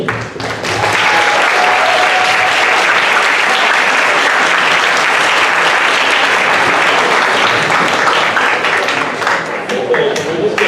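Sustained audience applause fills a hall after a student spoken word competition for grades 9 to 12, loud and dense from start to finish with a brief softer start.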